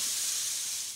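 Bacon frying in a pan for butternut squash soup, a steady bright sizzle and hiss, close and continuous, with no talking.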